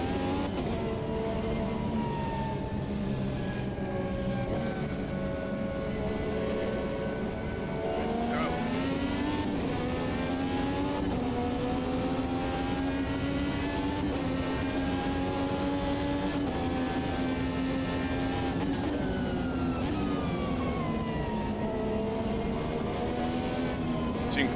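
IndyCar race car engines in the Automobilista 2 racing game drone loudly and continuously, pitch sweeping up and down through gear changes as other cars swoop past close behind, with a voice talking over the steady engine roar.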